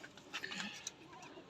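A Cheena pigeon coos softly in a home loft, a brief faint burst of low throaty notes with a few sharp chirps around it.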